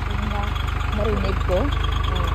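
A boat motor idles with a steady low chugging pulse, close by, while voices chatter over it.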